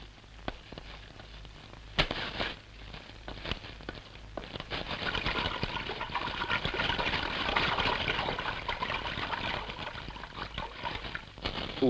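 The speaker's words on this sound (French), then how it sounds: "Le blé, qui ne trouve plus d'acheteurs, est précipité dans la mer." Wheat dumped into the sea sets off a steady wash of splashing and churning water, loud and continuous, with a few sharper splashes near the start and no talk.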